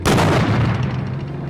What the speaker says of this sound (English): Now those sound like gunshots.